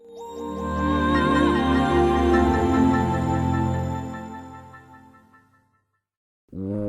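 Windows Longhorn startup sound, a lush swelling synth chord with shimmering high arpeggiated notes that rises, holds, then slowly fades out; a brief new sound cuts in right at the end.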